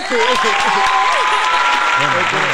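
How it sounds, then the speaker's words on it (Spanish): Audience clapping on a podcast-style talk show, a dense, loud wash of applause filling the whole moment while voices speak and laugh over it. "Aplauso, aplauso de verdad, aplauso de verdad."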